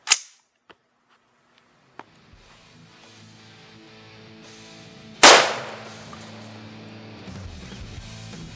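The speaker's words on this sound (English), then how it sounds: "I'm shooting my CMMG 556 Resolute" A CMMG 556 Resolute .223 rifle with a 16.1-inch barrel fires at lined-up pavers, giving a sharp, loud crack at the very start. A few small clicks and impacts follow, then a second loud blast about five seconds later.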